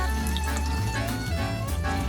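Water poured into a pan of cooking tomatoes and spices while making butter chicken, a steady continuous pour with a soft splashing wash, close and alone with no talk.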